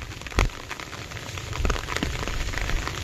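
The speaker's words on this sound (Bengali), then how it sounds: "এখন বৃষ্টি আর সারান দিচ্ছে না" Rain pattering steadily on a surface, a soft continuous hiss with a few sharper drips and taps, moderately close and fairly quiet, with no voices.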